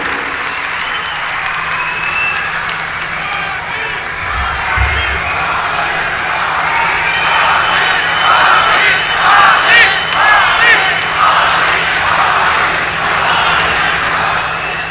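Large crowd applauding and cheering loudly for Prime Minister Narendra Modi at a public foundation-stone event in Jamnagar, Gujarat; dense sustained clapping with rising shouts and whoops, continuous throughout.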